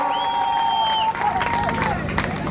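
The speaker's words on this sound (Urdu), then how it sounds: "سبھی ایک ساتھ آ جائیں، زوردار تالیوں سے سواگت" A crowd at an AIMIM political rally breaks into clapping and cheering, loud and close. A sustained whistling tone fades out first, then the applause fills the rest of the clip.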